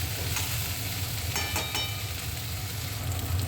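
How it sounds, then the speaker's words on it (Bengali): Cauliflower florets fry in a pan as a steady, close hiss and sizzle runs throughout, with a brief stir partway through and no talking. "খুব ভালো করে ভেজে নেব"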